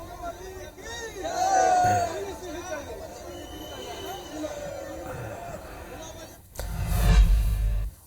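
Crowd of devotees at a Hanuman temple in Raipur on Hanuman Jayanti: a murmur of chatter and mixed voices, louder in places, ending in a loud rumbling burst.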